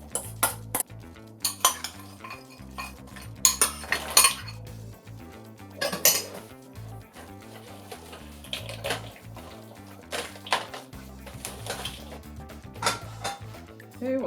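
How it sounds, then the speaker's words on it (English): Onions and okra stirred into fritter batter in a bowl, with repeated clinks and scrapes of a spoon against the dish at an irregular rhythm, close and fairly loud, and some faint speech in the background. "Stir in the onions and the okra."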